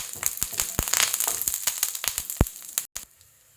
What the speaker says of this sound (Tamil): வெங்காயமும் பூண்டும் கொஞ்சம் வதங்கட்டும்